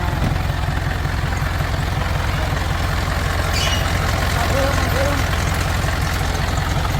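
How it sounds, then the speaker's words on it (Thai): Mitsubishi Fuso 4M50 truck engine idling with no muffler, a loud, steady, unbroken low rumble with a rough raw edge that holds from start to finish, close by and alone. "เสียงเครื่องยนต์ค่ะ"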